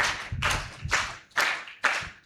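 A church congregation at a CSI children's Sunday service claps in five distinct bursts, each a crisp flurry of hand claps that rises quickly and fades, close and fairly loud with no voices between.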